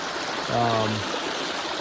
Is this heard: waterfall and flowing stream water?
yes